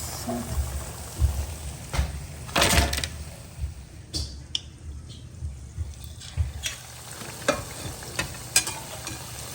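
Food frying in hot oil until crisp, giving a steady soft sizzle with clattering stirs and scrapes of a utensil against the pan, a few louder knocks scattered through.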